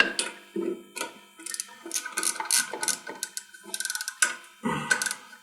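Two exhaust nuts on a Peugeot Speedfight scooter are threaded back on by hand, producing close, irregular metallic ticks, clicks and small rattles in uneven bursts with short gaps between them.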